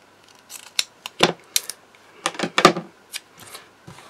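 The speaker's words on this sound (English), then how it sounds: "I'm just going to cut a few bits off of this" Close-up scissors make a series of irregular, crisp snips while trimming bits off a paper sentiment for a Hunkydory card craft, with short pauses between cuts.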